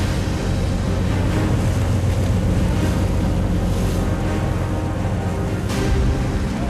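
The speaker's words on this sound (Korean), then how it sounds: "갑자기 파도가 거세다." A fishing boat at sea in a storm with rain and heavy waves, surf and wind roaring in a dense, constant wash with occasional heavier surges against the hull.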